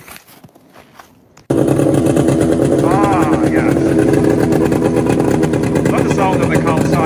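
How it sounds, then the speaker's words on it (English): Vintage Kawasaki and Arctic Cat snowmobile engines start up suddenly and run loud and steady at close range, a rough droning idle, with a brief spoken remark over it. "Love the sound of the Kawasaki and the Arctic truck"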